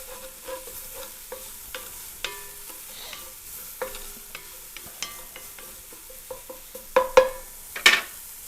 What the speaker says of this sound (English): in goes our garlic and shallot. Work that around.